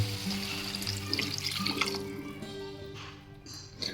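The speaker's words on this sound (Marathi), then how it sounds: "चिकनमध्ये थोडं पाणी टाकणार आहोत." A little water is poured over chicken in a pan of masala. The pour is a soft, close, splashing trickle lasting a few seconds, fairly quiet.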